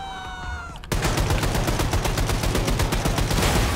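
Rapid automatic gunfire in the shooter game Wolfenstein II, a loud sustained burst of evenly spaced shots after a brief quieter moment with a tonal game sound.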